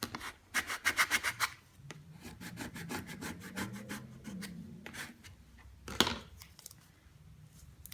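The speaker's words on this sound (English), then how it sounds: "Squeegee it down." A squeegee presses down a multi-layer adhesive applied by the wet method, giving a close, raspy rubbing and scraping in quick repeated strokes, then softer continuous smoothing with one sharper scrape near the end.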